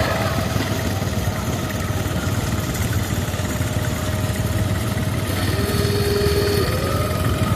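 A 1954 Ford 8N tractor engine runs at a threshing show parade, a steady, loud mid-pitched chug with a faint tonal whine rising near the end, no voices over it.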